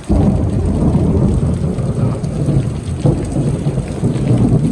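Heavy monsoon rain pours down in a thunderstorm, a loud, dense roar of rain with deep rumbling thunder beneath, continuous throughout without any voices.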